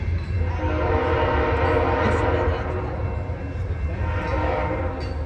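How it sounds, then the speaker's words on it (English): A train rolls past near a Denver bus terminal, its horn holding a steady, sustained blare over a continuous low rumble of the cars. "I see a choo-choo train."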